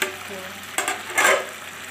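Rice boils in a pot with a soft bubbling hiss, broken by a few louder bursts of sizzling and stirring, heard up close.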